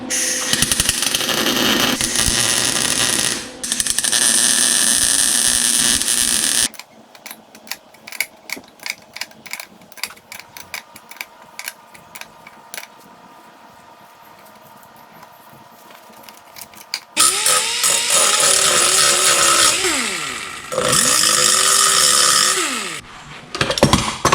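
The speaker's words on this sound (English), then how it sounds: "I'm going to weld on the inside of this nut to whatever mess I have going on here and see if I can extract it that way." Welding inside a stuck wheel hub nut, loud continuous crackling buzz in long stretches broken by a quieter middle section of irregular ticks and clicks, close and harsh, with no talking.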